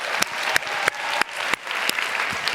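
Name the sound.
audience round of applause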